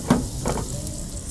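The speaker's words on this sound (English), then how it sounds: "everything's sizzling along" Food sizzles as it fries on a grill, a brief, soft, steady crackle with a faint stir near the start.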